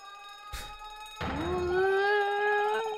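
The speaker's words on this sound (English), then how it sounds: "That's the emergency alarm, right?" A ship's emergency alarm in The Great Ace Attorney sounds after a sharp thump, then a loud, steady, rising tonal wail that holds and swells for a couple of seconds, with no talk.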